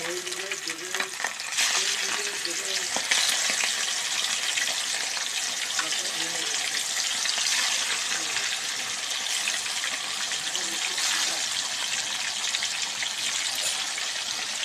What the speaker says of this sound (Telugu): ఇలా మంచిగా వేయించుకోవాలి మళ్ళీ ఎర్రగా అన్నీ ఇలా తీసుకొని మొత్తం మంచిగా ఇలా ఎర్రగా ఎంపుకొని ఉంచుకోవాలి